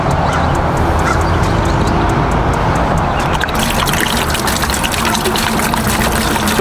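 A jug of vinegar is dumped into a Yeti cooler, a loud, close, continuous gush and splash of pouring liquid that brightens midway as the flow changes, with a voice talking over it.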